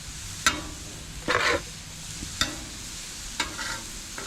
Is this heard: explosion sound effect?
no